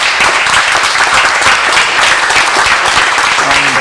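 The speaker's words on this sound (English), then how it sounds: "So, big round of applause to Valtech for the office." Loud, sustained audience applause at an evening tech meetup thanking a sponsor. Many hands clap densely and continuously, with a few voices or cheers faintly underneath.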